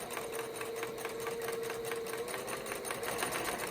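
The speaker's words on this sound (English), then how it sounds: "then we're going to sew these together, right sides together" A sewing machine runs steadily, stitching fabric face mask pieces together with a continuous close whirring motor drone and no pauses.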